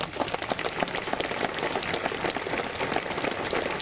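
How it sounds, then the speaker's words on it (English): Audience at a naturalization ceremony for new citizens breaks into sustained applause during a speech, a dense, even wash of many hands clapping, moderately loud throughout with no talk over it. "Thank you for that applause."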